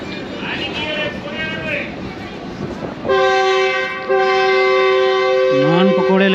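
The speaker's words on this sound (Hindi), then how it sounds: "हॉर्न दे दिया ट्रेन ने।" A Subak Raftar Express passenger train on the Lahore to Gujar Khan line blares a long, loud, sustained horn close by, held in steady tones over station murmur and voices, then begins pulling away.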